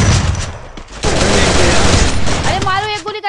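Rapid bursts of automatic gunfire in an online shooter game, loud and close, with a dense volley running through most of the moment before trailing off into a rising whine, while a voice talks over it.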